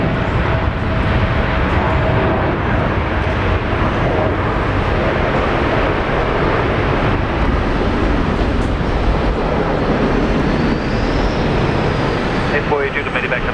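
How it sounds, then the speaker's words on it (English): An airliner rolls down the runway for takeoff at Brisbane Airport, a loud sustained broadband engine roar with steady low rumble held throughout, faintly rising whine near the end. "Nice long takeoff roll."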